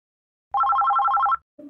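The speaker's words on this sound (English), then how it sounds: "The phone is ringing, ring, ring, ring." A cartoon telephone bell rings in a rapid, even trill for about a second, loud and alone, in a children's sing-along song; a brief low tone follows after a short pause.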